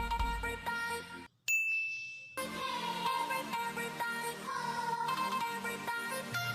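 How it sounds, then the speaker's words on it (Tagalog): A church bell at San Guillermo Parish Church in Bacolor, Pampanga rings out with ringing, sustained tones that hang and decay, fairly loud and close, with a brief drop to near silence partway through. "Ito po yung kampana."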